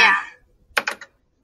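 A short burst of computer keyboard typing, three or four quick close key clicks, follows a moment of speech.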